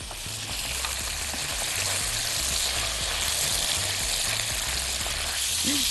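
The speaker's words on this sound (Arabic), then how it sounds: "عندي بقى بعد ما التومه تاخد لون كده انزل بالخل على طول" Garlic sizzles and crackles in a frying pan as vinegar goes in for a moussaka sauce, a close, steady frying hiss with a few faint background sounds.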